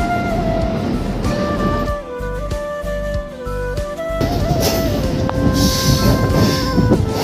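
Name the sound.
local train running on rails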